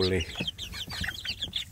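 Village chicks in a warm spot inside a town keep up a busy run of high, thin peeps and soft clucks, close by and fairly quiet, with someone talking over them.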